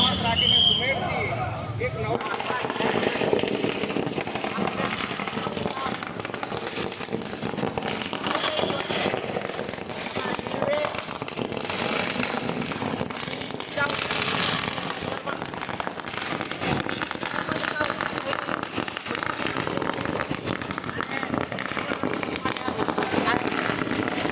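Firecrackers burst in dense, crackling volleys during a celebration marking a town becoming a new municipality in Gujarat, a steady loud rattle that continues throughout beneath a speaking voice.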